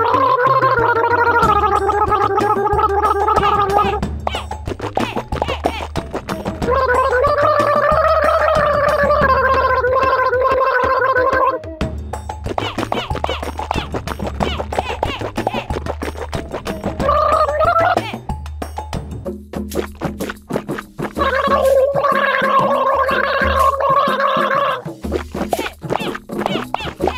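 Mouthwash gurgles in a child's throat in rhythmic, sing-song bursts over bouncy background music, with a few gaps and a choppier stretch toward the end.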